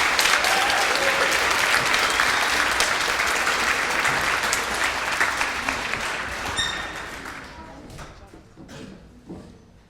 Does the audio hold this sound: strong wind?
no